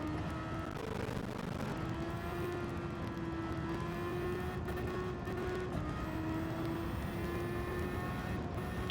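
A race car engine in a racing video game holds a steady, continuous drone with a whirring tone throughout, rising slightly in pitch at times as the car is pushed through turns, with no talking.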